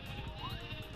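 A single wavering sheep bleat, the Sleepy Sheep item sound from the video game Paper Mario, rising briefly at mid-clip over a constant low game-music bed.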